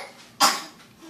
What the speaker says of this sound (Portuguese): Ai, meu Deus, que tosse.